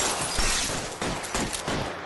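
Gunfire erupts in an LA Noire video game cutscene, a dense fusillade of repeated shots at steady moderate loudness across the whole stretch, with no talk over it.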